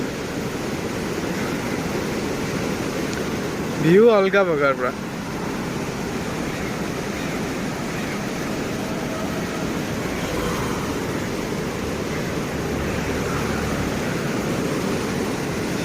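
Water rushing strongly past, a loud steady broadband roar filling the whole stretch, with someone briefly speaking over it early on.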